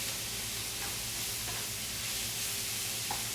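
Zucchini cooking in a pan, giving a continuous even sizzle and hiss with a few faint pops, steady and close, with no talking.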